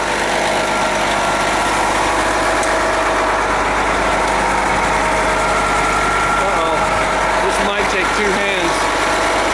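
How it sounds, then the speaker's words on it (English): A 1997 Prevost H3-41 touring coach bus with a Detroit Diesel Series 60 engine idling, a steady loud rumble and whine close by, with a brief voice over it near the end. "Detroit Diesel Series 60."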